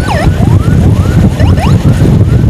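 An ambulance siren on an emergency run through Samarinda traffic near the Lembuswana intersection, its rising and falling wails sweeping repeatedly over a loud, steady road and engine rumble.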